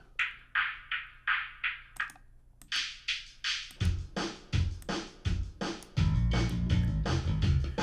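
Audio run through the Airwindows Perlite plugin: a series of short, evenly paced percussive hits, bright and clipped, then joined from about four seconds by a denser, bass-heavy layer that turns into a sustained thick wash near the end.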